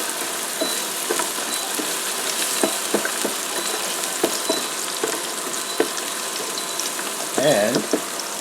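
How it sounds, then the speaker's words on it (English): Onions sizzle and fry in a Chefavor smart grill air fryer combo, with a steady crackling hiss and scattered sharp pops and stirring clicks. A brief scrape and clatter comes near the end. "I'm going to add my onions."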